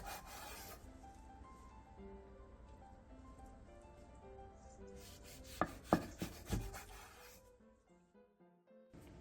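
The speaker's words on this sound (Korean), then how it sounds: "그 다음 한 입에 먹기 좋은 두께로 취향에 맞게 썰어주세요." A knife slices rolled pork belly and kimchi rolls into bite-sized pieces on a cutting board, with a few quiet rubbing sounds followed by a short cluster of sharp, close chopping taps.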